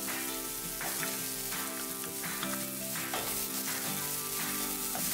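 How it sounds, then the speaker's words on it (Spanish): Onion and garlic fry in oil in a pan, giving a steady, close sizzle with faint stirring scrapes and no voices. "voy a agregar otro poquito más de aceite para comenzar a dorar la cebolla y el ajo"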